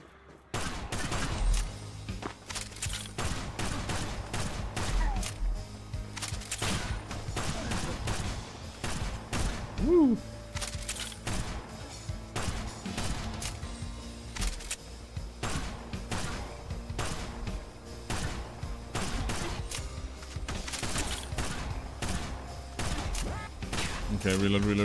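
Constant gunfire in the cowgirl shooter game Kill the Crows, with dense, rhythmic shots and thumps continuing throughout, loud and close, under occasional voice.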